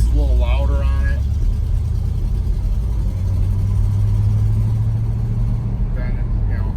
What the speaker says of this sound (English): The exhaust is a little louder on it